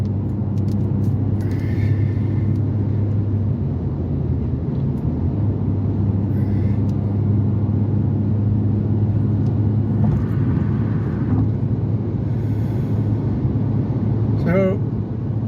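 Steady, loud road roar and engine rumble from a car cruising at about 80 mph on a highway, continuous for the whole stretch, with occasional talk over it.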